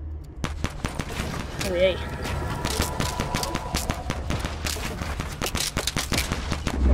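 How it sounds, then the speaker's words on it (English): Rapid bursts of gunfire from a Fortnite Battle Royale match crackle throughout, dense and loud with sharp repeated shots, while a player speaks briefly over the shooting. "they're firing at you like mad"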